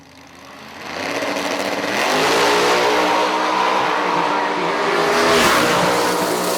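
Supercharged Pro Charger and Vortech drag race cars launching off the start line at a Lights Out event: engine roar swelling from quiet into a loud sustained howl with rising pitch, close by, with no talk over it.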